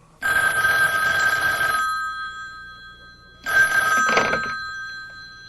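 Old-style telephone bell rings from a public phone, two loud, close bursts with a pause between them and no voices.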